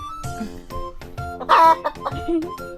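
Several clucks from a chicken in quick succession, close by, with a louder squawk midway through.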